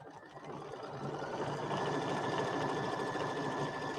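An embroidery sewing machine hums steadily and continuously at close range while running a wavy up-and-down quilting stitch on a pieced flag quilt block.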